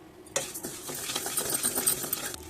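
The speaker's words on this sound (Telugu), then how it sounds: "అరసాళ్ళు జీలకర్ర అయితే వేసుకొని బాగా వేయించుకోండి." Cumin seeds roast and crackle in a pan as they are stirred, with a steady dry sizzle and scattered scraping taps of the utensil, close up and without talk.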